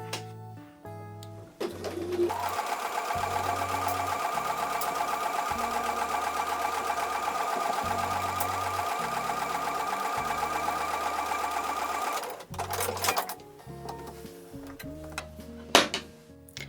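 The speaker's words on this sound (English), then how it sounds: "So I'm going to take that over to the sewing machine now and sew with a 1/4 inch seam." A sewing machine runs a quarter-inch seam on a quilt block in one long steady whir of about ten seconds, close and clear, framed by handling clicks and rustles before and after.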